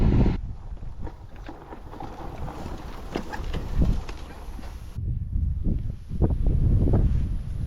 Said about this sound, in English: So it's quite windy and a lot hotter than it was earlier